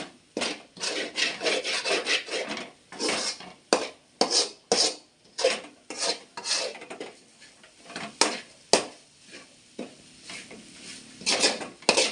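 Squid curry with pepper and coriander powder is stirred in a pan, giving rhythmic scraping and rubbing strokes. They are close and fairly loud, with a faint sizzle between them.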